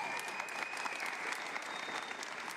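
An audience at an education and technology announcement applauds steadily, with many hands clapping at moderate distance and a faint tone running underneath.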